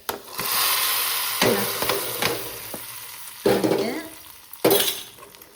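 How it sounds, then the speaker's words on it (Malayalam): Hot tempering hits the curry with a loud, continuous sizzle, followed by a few sharp clinks and stirring scrapes of a utensil in the pan. "നമ്മൾ ഇതിനെ എടുത്തിട്ട് കറിയിലോട്ട് ഒഴിക്കാൻ പോവുകയാണെങ്കിൽ അപ്പോൾ ഒരു സൗണ്ട് ചെയ്യും"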